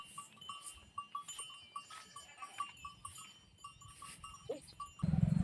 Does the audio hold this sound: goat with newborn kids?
yes